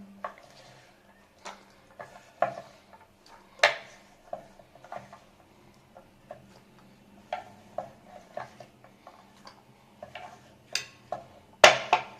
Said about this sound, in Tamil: அந்த பவுல்ல எல்லாத்தையும் மிக்ஸ் பண்ணுங்க.